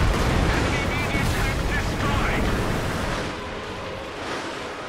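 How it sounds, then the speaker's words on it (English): Katyusha rocket artillery firing in Company of Heroes 2, a dense continuous barrage of rumbling launches and blasts filling the clip, easing slightly toward the end; a voice talks underneath. "Kachushka is currently firing at this position to try to hit my guys"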